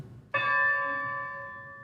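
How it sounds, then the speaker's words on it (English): A single memorial bell toll rings out at a ceremony honoring the lost crew of the Edmund Fitzgerald, a sharp clear strike followed by a long, steady ringing decay in a quiet room. "followed by the toll of the bell"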